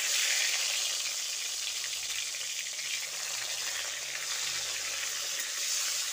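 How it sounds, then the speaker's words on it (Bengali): Salted, turmeric-coated eggplant pieces fry in hot oil, a bright continuous sizzle that stays even and fairly close for the whole stretch, with no voices. "এবার ওই তেলের মধ্যে নুন হলুদ মাখিয়ে রাখা বেগুনগুলো দিয়ে দিচ্ছি।"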